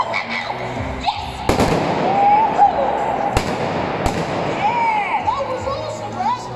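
A calcium carbide cannon fires at a live stage science show: a few sharp, loud bangs ring out over a lively audience of cheering children and adults, with people talking throughout.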